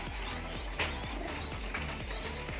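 Racing pigeons coo in soft, repeated low calls close by, with a few chirps and steady background hum.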